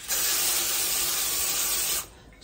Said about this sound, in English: Spray it up just a little bit